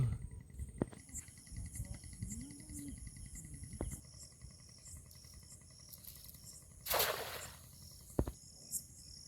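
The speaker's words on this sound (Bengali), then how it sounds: "চারিদিকে অন্ধকার ঝিঁঝি পোকার ডাক" Crickets chirp at night in the Sundarbans, a steady, faint high trill that carries on throughout, broken by a few soft knocks and a brief rushing noise near the end.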